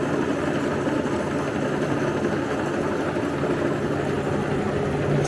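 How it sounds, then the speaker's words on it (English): A Yae Tek 1/3 horsepower DC motor drives a homemade rock tumbler with a steady, loud hum that holds an even pitch and level the whole way through, with no voices. "it's a 1/3 horsepower DC motor"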